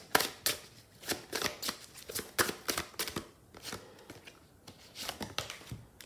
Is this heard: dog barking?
no